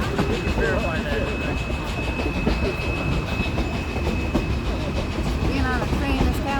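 Riding aboard a narrow-gauge train behind steam locomotive D&RGW #484 on the Cumbres and Toltec line, with a steady clickety-clack of wheels on rails, a constant rolling rumble and a thin whine or squeal over it.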